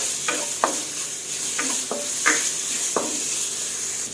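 Pork belly fries in a pan with a steady, close sizzle, broken by several sharp scrapes and clinks of a utensil stirring at irregular intervals, with no talking.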